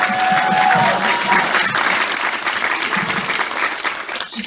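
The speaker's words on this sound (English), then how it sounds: "Let's give a round of applause for the volunteers." A film Q&A audience applauds the volunteers, dense and sustained clapping from a large crowd filling the room the whole time without letting up.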